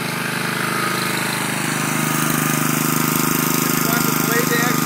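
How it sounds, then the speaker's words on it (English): A Toro 21-inch Super Bagger Personal Pace self-propelled lawn mower with a Honda engine runs steadily at a constant loud drone, close by, with no blade engagement change and no voices. "And right now, just the engine is running."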